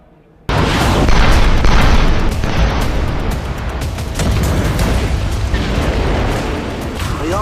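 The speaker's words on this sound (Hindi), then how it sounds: "ईरान से दागी गई ये मिसाइलें कद्र और इमाद दोनों ही बैलिस्टिक मिसाइलों के टारगेट पर इजराइल है।" Ballistic missile explosions from news footage of an Iranian strike on Israel: after a brief quiet start, a loud sustained rumbling roar of blasts and booms fills the whole clip with no speech.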